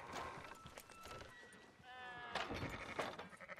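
Sheep bleating in Red Dead Redemption 2 around an auction yard, a few wavering bleats mixed with hoof clatter while someone talks over them.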